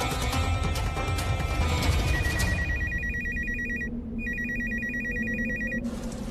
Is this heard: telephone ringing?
yes